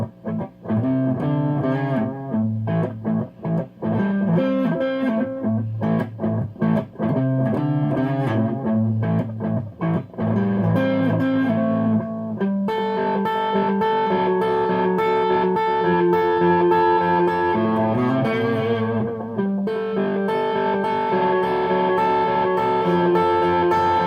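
An Ibanez Artcore AGS83B semi-hollow electric guitar fitted with Seymour Duncan 59 pickups plays distorted rock tones, with chugging chords and sustained notes, loud and continuous throughout.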